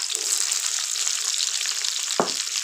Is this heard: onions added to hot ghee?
yes